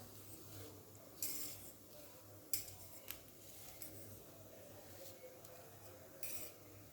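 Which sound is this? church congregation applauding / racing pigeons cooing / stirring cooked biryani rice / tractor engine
stirring cooked biryani rice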